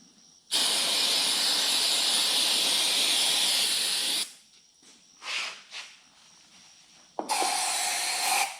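Starting fluid sprayed from an aerosol can in long, loud hissing bursts: one steady blast of about four seconds, a few short puffs, then another strong spray starting, all close up with no talking.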